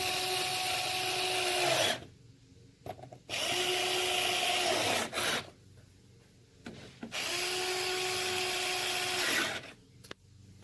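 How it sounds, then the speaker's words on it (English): Black & Decker power drill whirring in three steady bursts of about two seconds each, close and fairly loud, with quiet gaps and small clicks between runs. "Got my trusty Black & Decker."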